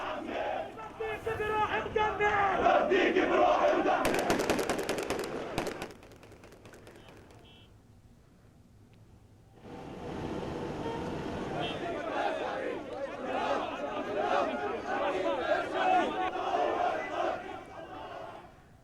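A large crowd of angry Palestinian protesters marches in Ramallah, chanting and shouting loudly together. The roar drops to near silence for a few seconds, then returns.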